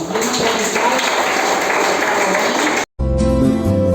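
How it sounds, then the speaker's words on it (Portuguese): Church congregation applause: dense, sustained clapping from many people fills the space for nearly three seconds, breaks off abruptly, then gives way to a louder, different mix that may still hold clapping. "As palmas logo ao Senhor"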